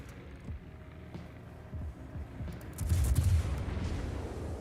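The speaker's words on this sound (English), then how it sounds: "Someone else shooting at me?" Naval gunfire booms in a World of Warships battle, a series of low distant thuds and rumbling volleys that build into a heavier roll of shots toward the end, steady engine and water noise underneath.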